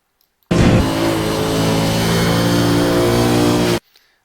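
A race car on the Zolder circuit, its engine screaming at high revs as it blasts through a corner for about three seconds, loud and close, then cutting off abruptly.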